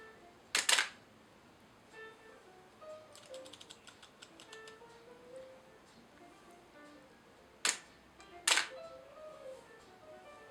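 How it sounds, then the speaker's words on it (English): Two pairs of sharp mechanical clicks from a Nikon F5 film camera's shutter firing at a slow speed, one near the start and another near the end, with a quieter stretch of faint ticking and handling noise between them. "Now listen to the shutter speed. A lot slower, isn't it?"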